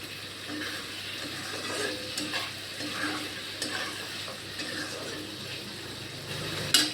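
Spice paste stir-fried in a pan with ridge gourd and potato, a steady close sizzle under repeated scraping strokes of a spatula, continuous and fairly even throughout.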